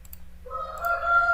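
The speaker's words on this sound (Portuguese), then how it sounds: "Vocês estão ouvindo os galos cantar" A rooster crows from a distance, its drawn-out call rising partway through and holding to the end over a low steady hum.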